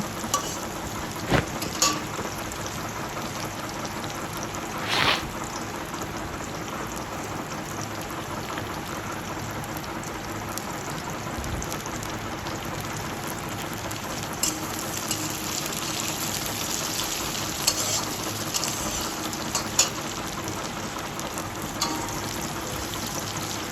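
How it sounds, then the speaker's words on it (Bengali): Chopped onion frying in a pan gives a steady, rain-like crackling sizzle close by, with a few sharp utensil taps against the pan and no talking. "পেঁয়াজ কুচিটা একটু লাল লাল ভাজা হয়ে যাওয়ার পর আলুটা দিয়ে দিব"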